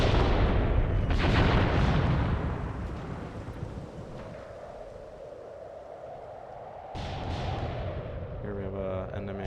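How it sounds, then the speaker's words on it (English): Mortar fire in the Mius Front WWII video game. A heavy, rumbling boom opens, then a long noisy decay fades to a low roar. A second blast hits near the end, loud and close-sounding. "These mortars are now firing."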